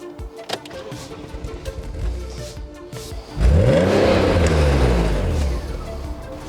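An Alpina B10 exhaust: a few idle blips and light engine sounds, then a strong rev that swells to a loud, sustained roar before easing slightly, heard close with no talking.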